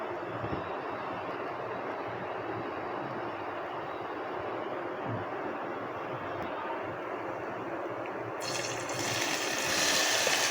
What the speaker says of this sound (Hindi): अब हम यहाँ पर जो है ये छोले इसमें डाल लेंगे।